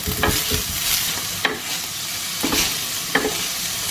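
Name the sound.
fresh mutton frying on a tawa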